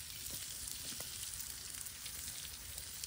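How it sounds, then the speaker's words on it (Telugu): Fish fries in a pan outdoors in a mango grove, giving a steady, even sizzle with faint crackles and no talk over it. "చూసిరు కదా చేపల ఫ్రై"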